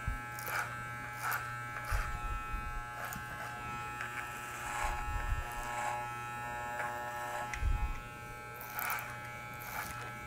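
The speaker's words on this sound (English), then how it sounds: "I will use clipper over comb technique, a little bit more advanced technique, achieving the same goal." Electric hair clipper cutting hair over a comb, a faint steady buzz with short louder bursts as the blades pass through hair, close by and alone.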